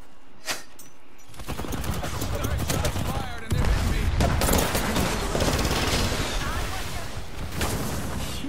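Gunfire in the video game Apex Legends, sustained rapid bursts of automatic shots that swell into a dense fusillade after a brief quiet start, loud and close, with faint game voice lines mixed in.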